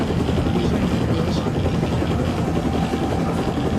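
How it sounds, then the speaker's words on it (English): A helicopter in the TV series Chernobyl makes a dense, loud, steady rotor and engine roar throughout, close and unbroken, with no talking. "How that helicopter just dropped right out of the sky"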